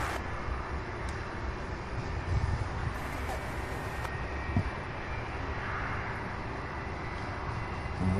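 A Boeing 747 departing an airport is heard as a broad, sustained jet-engine roar at a distance, with occasional faint sounds from the surroundings.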